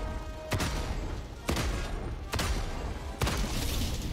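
Heavy weapons firing at a tank in Helldivers 2, four loud broadband blasts spaced roughly a second apart over a steady roar of battle noise.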